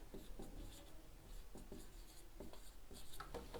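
A teacher writes a variable declaration on a classroom board in quiet, scratchy strokes, with short taps and rubs in an uneven rhythm. No one speaks over it.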